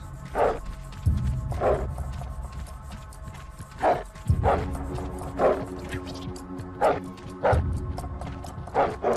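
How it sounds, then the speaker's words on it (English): Dogs in the video game Oddworld Stranger's Wrath bark repeatedly in sharp, loud bursts spaced a second or two apart, over a steady low game ambience. "What are those dogs?"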